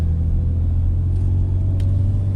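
A Nissan Frontier pickup, swapped with Titan parts, drives along a road with a steady low engine and road rumble from inside the cab, loud and even, with no talk.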